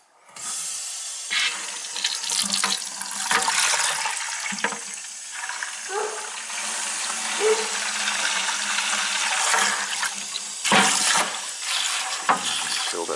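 Steady rushing water from a well tank pours into a bucket, a continuous broadband splash with a few brief bumps and knocks along the way.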